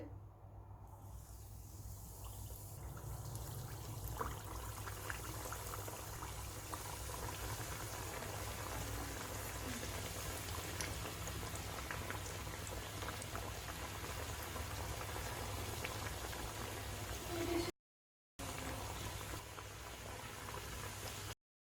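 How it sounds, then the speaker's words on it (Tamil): Oil heating in a pan for frying a sweet dish, a steady dense hiss and fine bubbling that runs continuously, briefly cut off near the end. "எண்ணெய் நல்லா காஞ்சிடுச்சு."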